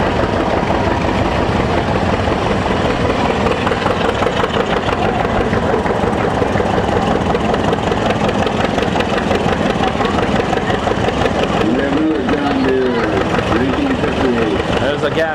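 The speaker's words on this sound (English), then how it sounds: "We got a 1938 Model L John Deere tractor." A 1938 Model L John Deere tractor engine idling at an outdoor parade, a steady close putter under continuous talking, with a brief whistling tone near the end.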